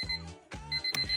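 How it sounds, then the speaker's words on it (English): An alarm clock rings in short repeated electronic beeps, clear and close, with brief gaps between the bursts. "What if your alarm clock didn't sound like this,"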